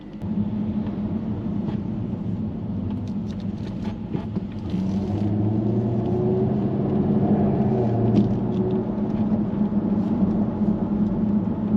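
A Jaguar F-Type R exhaust rumbles while driving through city traffic, a low steady growl that swells louder partway through, alone without speech.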